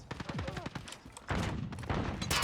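Rapid bursts of automatic gunfire in an online shooter match, an AK rifle among the weapons, crackling in dense volleys mixed with thuds and a few short spoken remarks between the shots.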